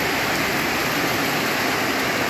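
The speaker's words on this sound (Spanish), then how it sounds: "Un poquito caído de lluvia," Steady rain falls in a dense, even hiss during a thunderstorm, with water pouring and spilling nearby and no voices.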